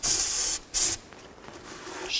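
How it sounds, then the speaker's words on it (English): Brake parts cleaner sprayed from an aerosol can onto a Chevy Tahoe rear axle housing during a seal and bearing job: two loud, close hissing bursts of about half a second each, then a quieter start of a third. "Now I'm going to use a little brake parts cleaner and just wipe this down."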